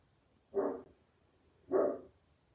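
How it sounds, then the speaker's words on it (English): A dog barks twice, about a second apart, each bark short and fairly faint in an otherwise quiet room. "my dog starts barking."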